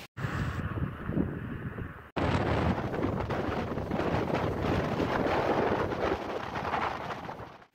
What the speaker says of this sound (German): der Wind kommt vom Meer, das heißt, er hat auch ordentlich Wumms